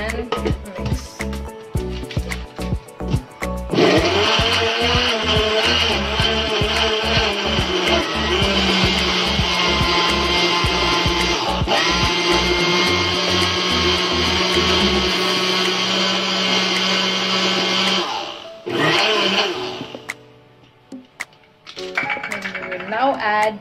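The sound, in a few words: blender mixing a banoffee smoothie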